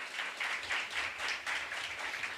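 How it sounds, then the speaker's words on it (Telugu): Fairly faint, rhythmic clapping from a church congregation during a sermon, steady pulses of many hands in a reverberant hall. "నమ్మిన వారు చప్పట్లు కొట్టండి."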